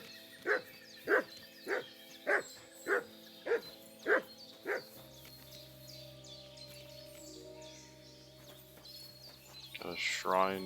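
Mutt, a dog in the video game Kingdom Come Deliverance 2, barks about eight times in an even, steady rhythm at moderate distance, followed by quiet ambient music and a voice speaking at the end.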